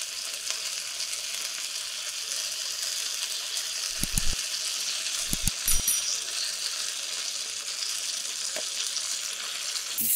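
Food sizzles steadily in olive oil in a pan at a campsite, a continuous bright frying hiss with a few soft knocks and clinks partway through, close and with no talking.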